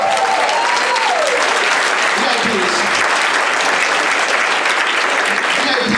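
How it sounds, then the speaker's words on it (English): Dense, sustained audience applause fills a stage hypnosis show, steady and loud throughout, with a voice briefly audible underneath near the start. "Give these guys a round of applause."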